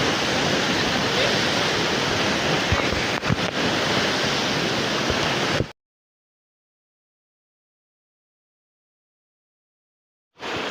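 Bataraw Falls, a waterfall, roars as a dense, steady rush of falling water up close, then cuts to silence midway before the roar briefly returns at the very end.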